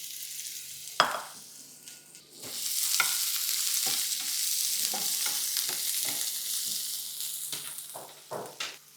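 Mustard seeds, asafoetida and green garlic sizzle steadily in hot oil, with sharp crackles and pops from the seeds and a few spoon scrapes stirring them, close and fairly loud.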